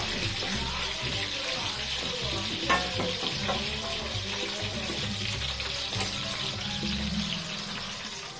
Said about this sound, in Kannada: ಎರಡು ಕಡೆ ಸ್ವಲ್ಪ ಚೆನ್ನಾಗಿ ಫ್ರೈ ಮಾಡಿಕೊಂಡ್ರೆ ಸಾಕಾಗುತ್ತೆ.